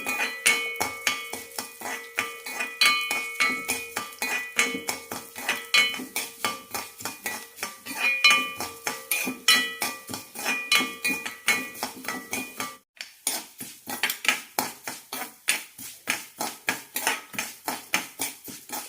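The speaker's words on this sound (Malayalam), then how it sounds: "നല്ല ചുവക്കന് വറുത്തെടുക്കണം" A metal spoon scrapes and clinks steadily against a kadai as jeerakasala rice roasts in ghee, a brisk rhythmic stirring that carries on alone throughout, with one brief gap.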